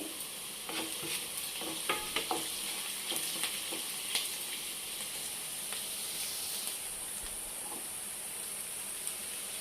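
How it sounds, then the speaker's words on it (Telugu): Steady frying sizzle and hiss fills the clip, with scattered sharp crackles and pops from crushed ginger and garlic tossed into hot tempering oil, fairly close and continuous. "అల్లం వెల్లుల్లి దంచి వేస్తున్నాను తాలింపులో"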